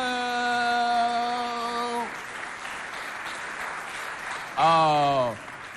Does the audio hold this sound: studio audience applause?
yes